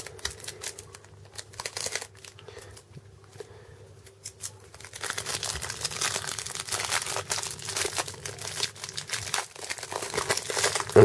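Cardboard and plastic packaging of a Cube Twist puzzle cube is torn open by hand, with scattered crinkles at first, then a longer burst of continuous loud ripping and crumpling, close up.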